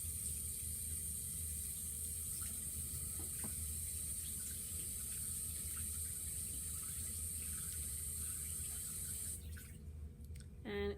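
Tap water runs steadily into a bathroom sink as a face is washed, a constant close hiss that stops near the end, followed by a brief splash.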